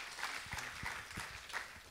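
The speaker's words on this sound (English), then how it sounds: "maybe a final applause once again for Dimitar for everything" A short round of applause at an internship farewell ceremony for a departing intern, light scattered clapping heard fairly quietly for under two seconds, with a few dull thuds mixed in.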